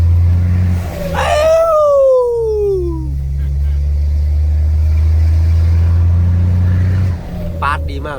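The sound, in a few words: Isuzu 360 ten-nut truck engine while driving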